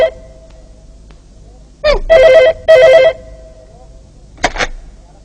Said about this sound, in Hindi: कमबख्त फोन को भी अभी आना था।